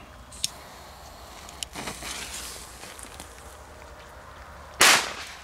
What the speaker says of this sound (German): Superknall Pyrocracker.